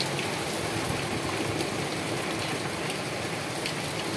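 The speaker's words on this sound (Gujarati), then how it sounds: "મધ્ય ગુજરાતના આણંદમાં જોરદાર વરસાદ ખાબકી રહ્યો છે" Rain falls hard and constantly in Anand, Gujarat, a broad uniform wash of noise without pauses or voices.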